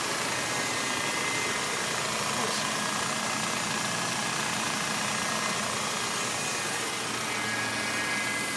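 A Fiat Tipo car engine idles with an abnormal noise, giving a steady, close, continuous mechanical drone with a dense rattling texture that holds evenly throughout.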